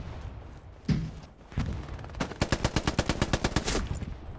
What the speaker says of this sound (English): I just killed two people with a machine gun.